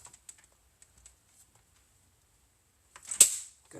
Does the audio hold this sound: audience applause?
no